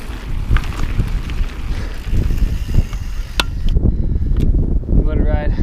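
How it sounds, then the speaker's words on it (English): Strong, gusty wind buffets the microphone throughout on the 18 Road mountain biking trails in Fruita, Colorado, a loud, rumbling roar with scattered knocks and rattles underneath. "It's always windy at 18 Road for some reason."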